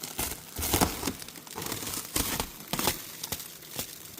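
A blade cuts open plastic shrink wrap around a pallet, giving close, repeated crinkling and tearing rustles in uneven bursts.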